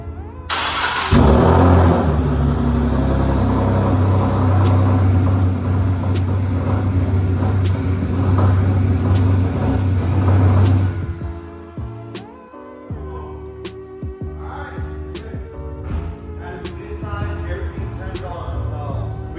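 Turbocharged Nissan G37 with a freshly swapped built engine cranks and fires, settling into a loud, steady idle close by for about ten seconds before dropping to a rougher, quieter running with intermittent clicks and knocks.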